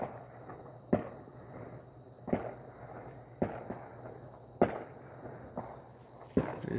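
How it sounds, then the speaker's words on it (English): Distant Fourth of July fireworks thump and pop every second or so, faint booms over a constant high insect-like drone at night. "I just heard some other fireworks."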